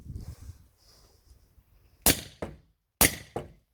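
Two muffled shots from an Umarex Glock 17 Gen5 PAK blank pistol with a suppressor, each a sharp crack followed by a quick echo, about a second apart. Faint handling noise comes before them.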